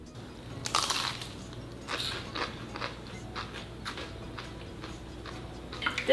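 Crunchy bites into a crispy homemade shrimp egg roll, several brittle cracks and crackles spread over a few seconds, close but soft, with no talking.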